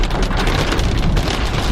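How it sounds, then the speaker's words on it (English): Rain beginning to pour outdoors near a farm stand, a loud dense patter close to the microphone, steady throughout with no talk. "here comes the rain as we speak."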